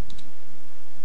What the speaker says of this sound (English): you can click on the start button and type in run